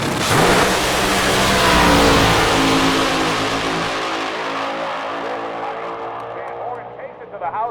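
Top Fuel (AA/Fuel) dragster at the Nightfire Nationals drag race, engine roaring loud and broadband down the strip, smoking a piston at the top end, then fading with the run while an announcer talks over it.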